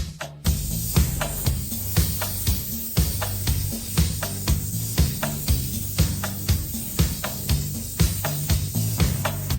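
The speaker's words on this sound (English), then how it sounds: "The body repainting begins, and you must choose German imported water-based fluorescent paint to achieve the brightest effect." Short hissing bursts of water-based fluorescent spray paint repeat in a steady rhythm, close up, over continuous background music, as a 2004 Land Rover Discovery 2 body is repainted.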